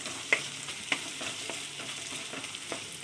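Coconut frying in a pan while rice pudding is prepared, a steady close sizzle broken by a few soft stirring taps and scrapes, with no voices.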